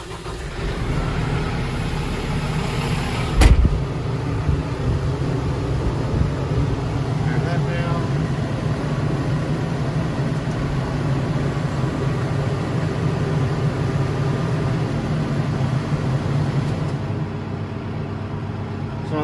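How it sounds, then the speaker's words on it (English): A Kubota M4-071 Deluxe tractor fitted with a Land Pride FDR3690 finish mower starts with a sharp burst, then idles with a steady, even diesel drone at moderate loudness for the rest of the stretch. "Start the tractor up."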